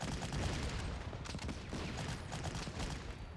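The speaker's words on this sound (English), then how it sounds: "And now Sedan is in for some artillery bombardment." Artillery bombardment pounds Sedan in the Panzer Corps strategy game: a dense, continuous barrage of rumbling blasts and crackling gunfire with no voices.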